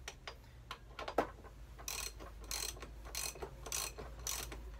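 A ratchet wrench clicks in several quick bursts while turning the headstock nut on a scooter during a head bearing replacement, close and fairly loud, with no talking.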